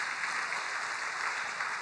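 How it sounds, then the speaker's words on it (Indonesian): A church congregation at a prayer service claps together in a brief, dense, even burst of applause heard alone. "Tepuk tangan untuk Tuhan."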